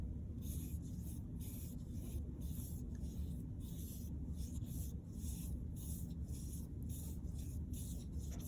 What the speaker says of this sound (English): I'm going to paint from the dotted line to the straight line all blue